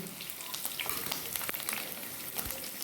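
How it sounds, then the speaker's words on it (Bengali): Eggs fry lightly in hot oil in a pan, giving a soft, steady sizzle with scattered crackles and light scraping. It is quiet and close, with no voice over it. "ডিমগুলো এইভাবে হালকা করে ভেজে তুলে নিচ্ছি।"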